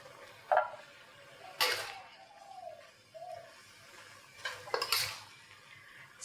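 Curry with chayote and tempeh, kaffir lime leaf and sliced red chili is stirred in a pot, giving a few sharp clinks of utensil against metal spaced across a quiet background.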